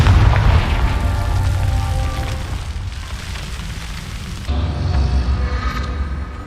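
Booming fire-blast spell bursts in the fantasy video game Hogwarts Legacy, a loud sustained rumbling explosion with crackling fire that dips midway and then swells again.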